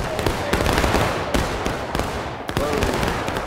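Musket volley fire in the War of Rights video game during a historical rules event, with several sharp overlapping reports cracking out over a constant dense roar of battle noise.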